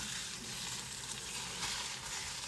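Slices of ham and Swiss cheese sizzle in a pan with a steady, close frying hiss that stays even throughout.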